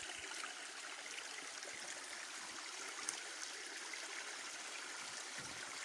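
Steady rushing of a forest stream spilling over a small waterfall in the Forest of Dean, constant broadband water noise with no pauses, fairly close and moderately quiet, no voices.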